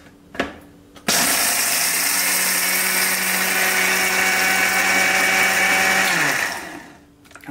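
A mixer grinder whirs up loudly, grinding peanuts for chutney in one steady burst lasting about five seconds, then winds down; a brief clatter precedes the start.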